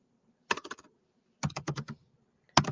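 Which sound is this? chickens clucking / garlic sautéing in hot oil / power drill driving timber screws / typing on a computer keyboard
typing on a computer keyboard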